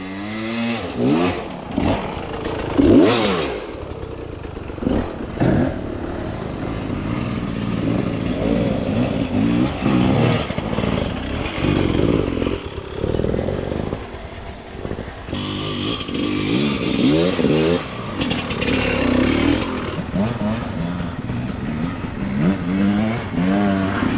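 Dirt bikes climb a hill one after another, their engines revving and buzzing up close and farther off, with throttle bursts and clattering mixed throughout.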